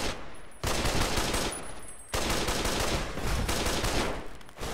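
Gunfire in Fallout New Vegas, dense bursts of loud rapid shots that fill the whole stretch, broken by two brief gaps before the firing resumes.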